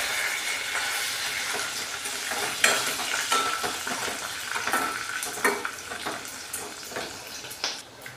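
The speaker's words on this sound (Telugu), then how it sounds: "పచ్చిమిర్చి ఒక 6-7 తీసుకున్నానండి. మీ కారం తగ్గట్టు మీరు తీసుకోండి. ఇవి వేగాలి." Green chillies and dried red chillies frying in oil and being stirred in a pan for carrot rice, giving a steady bright sizzle with scraping spoon strokes and occasional louder clinks, with no talk.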